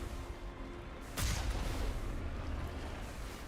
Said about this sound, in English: Let's shoot missiles.